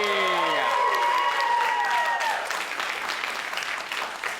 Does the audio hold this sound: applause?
yes